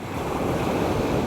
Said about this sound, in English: right in front of the waves crashing against the seashore